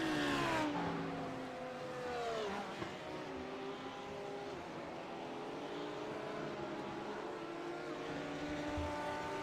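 GT3 race cars, including a Lamborghini, battle closely at Silverstone in a sim racing endurance game, their engines droning and shifting pitch together in a steady, continuous roar as they run wheel to wheel.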